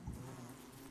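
Bees buzzing in the video game Don't Starve, a steady insect drone that holds for just under a second, with no speech over it.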